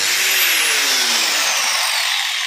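A power saw cuts through the wooden frame of a cot, whining loudly and steadily at close range for the whole stretch, with no voices over it.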